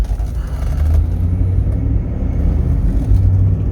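A 2019 Ford F250 flatbed truck pulls away on a test drive, a low, steady engine rumble close by with a slight rise near the end.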